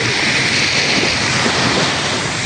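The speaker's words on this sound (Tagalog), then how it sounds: "maganda din po yung dagat dito" Steady, loud roar of sea surf washing continuously onto the shore, with wind noise over the microphone and no voices.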